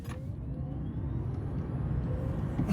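Nissan Leaf electric car driving quietly, a steady low road and tire rumble inside the cabin with a faint rising electric motor whine and no engine noise.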